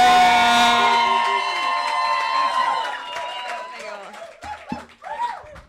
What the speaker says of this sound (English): give a huge round of applause to our very own Monique Dilas